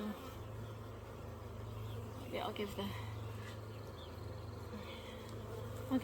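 Honeybees hum around a hive box during a hive split, a low steady buzz outdoors with occasional louder passes of individual bees, while a person speaks briefly nearby.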